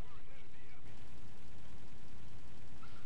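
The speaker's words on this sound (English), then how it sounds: "Shooting, shooting, shooting, critical, and we got him." Aircraft guns fire rapidly in the War Thunder video game, a dense sustained burst over a loud engine roar.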